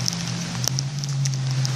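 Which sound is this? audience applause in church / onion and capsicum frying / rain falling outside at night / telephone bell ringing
rain falling outside at night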